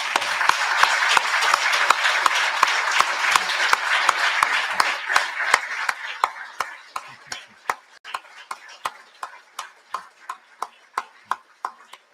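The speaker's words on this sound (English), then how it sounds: "please stand and let's give them a round of applause." An audience at a memorial service applauds military veterans: dense clapping for about five seconds, then thinning out to a few isolated claps ticking in a slow, regular rhythm until the end.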